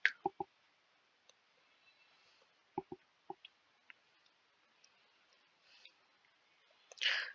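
A computer mouse clicks, faint and close, in sparse pairs and single taps separated by quiet gaps, with a soft rustle near the end.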